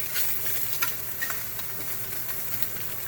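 Pork sizzling in a hot pan as sugar browns into the meat for pork and beans, a steady close frying crackle with small pops and stirring scrapes throughout.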